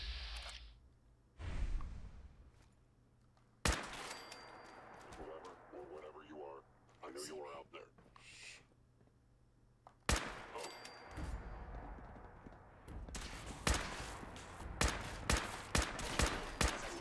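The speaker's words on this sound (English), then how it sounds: "we're gonna shoot them all in the head with my super strength weapon" Gunfire from a weapon in Fallout 4: sharp shots crack in scattered bursts, with a loud cluster of rapid reports near the end, under ongoing talk.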